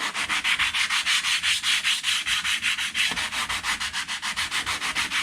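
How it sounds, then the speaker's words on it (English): Steady rhythmic scraping of an abrasive block rubbed back and forth over wood, close up, in quick even strokes with no talking. "The sanding block helps keep everything straight."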